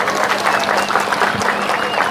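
Audience applause fills a hall at a talk about a mushalla and national values, with steady dense clapping throughout and a faint voice underneath.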